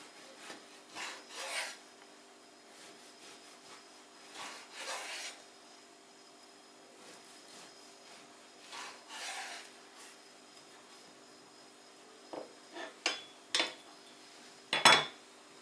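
A knife saws through a Romanian Easter cake (cozonac), soft repeated rasping strokes in bursts, faint and close, with a few sharper clinks near the end.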